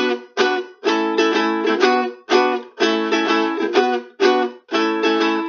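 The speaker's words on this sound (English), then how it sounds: "You squeeze at the same time as you strum," Ukulele strummed in a choppy, bouncing rhythm, each chord cut short right after the stroke by squeezing the fretting hand, leaving crisp rhythmic gaps, close and solo.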